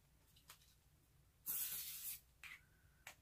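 A single hissing burst from a spray can, about half a second long, close and fairly loud, with a few faint clicks and rustles around it.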